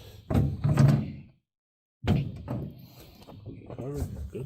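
Generac generator enclosure door shutting with a couple of solid thunks separated by a brief silence, up close, with someone talking around the impacts.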